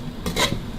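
Thai chili duck with kaffir lime leaves stir-fried in a hot pan: a brief, close scrape and clatter of a utensil with a quick sizzle, lasting under a second.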